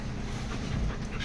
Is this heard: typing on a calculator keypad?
no